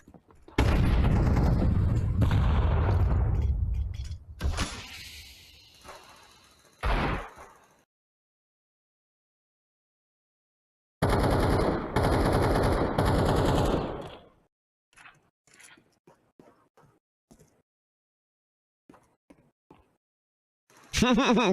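Video game gunfight with a thrown flashbang: loud sustained gunfire bursts and a sharp bang, a long silence, then another heavy volley followed by scattered faint shots and clicks, with players talking.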